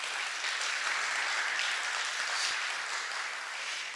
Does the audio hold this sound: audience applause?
yes